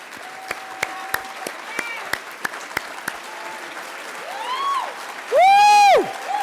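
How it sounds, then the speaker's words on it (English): A small audience at a speech showcase gives scattered, sparse applause, with isolated claps spread out before a sharp, whistle-like cheer near the end. "I want to ask them to stand up real quick so we could get them a round of applause."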